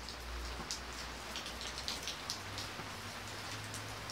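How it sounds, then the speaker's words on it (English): Rain falling outside a house in autumn, a steady dense patter of drops with occasional sharper splashes, moderately faint and continuous with no voices. "This rain plays havoc with my rust."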